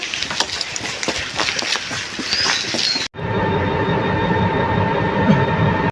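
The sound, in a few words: train journey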